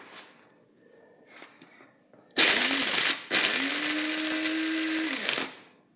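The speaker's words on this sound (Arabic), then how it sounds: "نطحنوا الكاوكاو واللوز" Peanuts and almonds ground in an electric grinder for Oujda-style taqnetta: after two short faint taps, a loud whirring motor runs in two close bursts, the second lasting about two seconds before spinning down.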